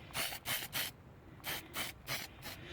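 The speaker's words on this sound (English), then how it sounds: "all I'm doing is giving it a quick spray" Metallic Rust-Oleum spray paint hisses from a can in repeated short bursts, about six quick sprays with brief pauses between, fairly near and soft, no voices.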